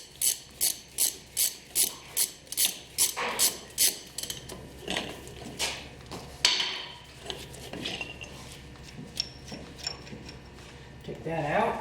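Metallic ratcheting clicks in a quick even run as an inner nut is worked off a Toyota steering knuckle, followed by clinks and scrapes of metal parts, with a voice speaking over some of it.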